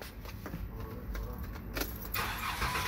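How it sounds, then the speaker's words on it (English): A car engine with a cylinder misfire cranks and catches after its ignition coil is moved from cylinder 2 to cylinder 6, a brief whirring crank building into a running engine, heard up close with no talking. "Now let's start this thing up and go look at my misfire counter"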